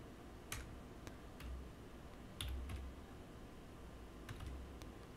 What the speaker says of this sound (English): Now we have to type here slash configure.